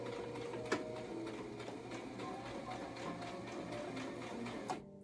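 A sewing machine back-stitches the shoulder of a beach cover-up dress made from a recycled towel, running in a continuous close mechanical whir for several seconds with a couple of brief clicks and no talk.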